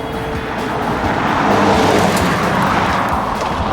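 A 2.4-liter four-cylinder engine in a mid-sized sedan drones steadily with a coarse, continuous rumble and no pauses.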